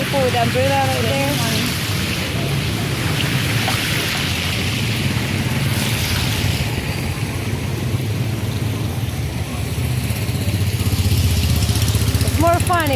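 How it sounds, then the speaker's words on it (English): Steady hiss of rain falling in a street in Basak, Mactan, Lapu-Lapu in the Philippines, with a low engine rumble and people talking nearby. "It's raining in here."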